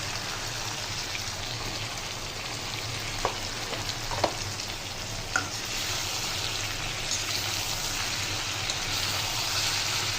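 Tomatoes frying in a pan produce a steady, even sizzle throughout, broken by a few light utensil clicks early on, with no one talking.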